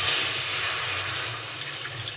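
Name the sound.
water being poured into a wok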